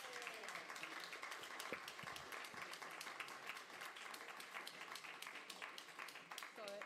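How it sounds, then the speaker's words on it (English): Faint, sustained clapping from the crowd at a Port Augusta community meeting against nuclear power, a final round of applause with voices and cheers mixed in throughout. "One final round of applause?"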